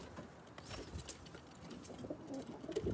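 Pigeon-like birds cooing and calling in a loft among other birds, soft and moderately distant against a busy, rustling background.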